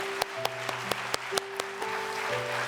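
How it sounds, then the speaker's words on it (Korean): Scattered claps from a church congregation at a New Year's Eve service, a handful of sharp hand claps spread irregularly over a few seconds, with sustained organ or keyboard tones ringing underneath. "우리 박수하면 좋겠습니다"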